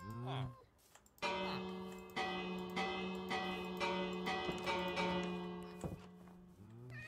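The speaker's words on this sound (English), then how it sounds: "if you ring the bell, do they go into their homes?" A village bell in Minecraft rings repeatedly in a steady, metallic clanging series, bright and sustained, with a person talking briefly before and after.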